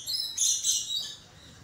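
Birds from Indonesia chirp and tweet in short bright bursts, moderately near, with no talking over them.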